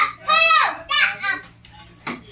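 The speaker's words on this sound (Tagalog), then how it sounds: "ingay mga bata dito." Children chatter and call out nearby in high, lively voices, with a couple of bursts of play noise and short pauses between them, heard during a job cutting plastic and using hot air around a battery.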